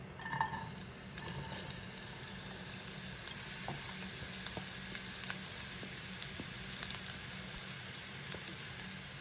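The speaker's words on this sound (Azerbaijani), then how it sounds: "yağımız tam əridikdən sonra doğradığımız soğanları əlavə edərək soğanlarımızı qızardırıq" Chopped onions fry in melted butter in a pan, giving a steady, close sizzle that fills the whole stretch, with faint stirring clicks and scrapes scattered through it.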